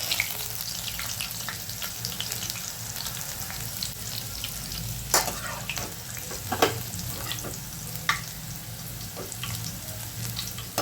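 Garlic sizzles and crackles in hot oil for a crispy corn chivda, a steady fry hiss with scattered pops and the clink of stirring, close and continuous with no talk.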